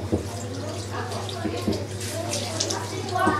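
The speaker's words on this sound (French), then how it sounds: "Ouvre le robinet maintenant." Water runs from a tap as hands are rinsed, a steady splashing stream with a few drips. A voice talks over it now and then.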